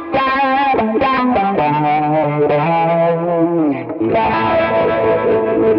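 Guitar riff played through a Quad Cortex on a lower-gain tone with an MX Vibe effect, loud and swirling with chorus-like warble, chords and single notes ringing without any talking.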